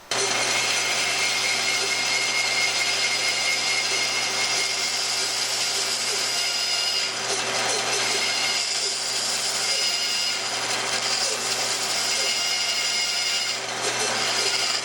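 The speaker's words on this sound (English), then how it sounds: "So there you go, a few tips and techniques for cutting the curves on the bandsaw." A bandsaw cuts curves in wood, producing a loud, steady, continuous whine and rasp that holds unbroken throughout with no voices.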